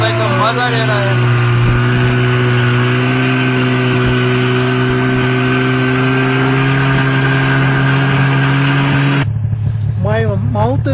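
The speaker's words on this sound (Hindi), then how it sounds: "How to ride the snow bike." A snow bike engine runs steadily at idle on a snowy slope in Jammu and Kashmir, a loud, even mechanical drone with strong low harmonics, joined by people talking over it and cutting out near the end as voices continue.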